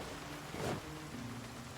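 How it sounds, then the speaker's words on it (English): Steady rain hiss in the zombie survival game Project Zomboid, a soft even patter with a brief swell partway through, fairly quiet and with no voices. "Oh, why are you raining, game?"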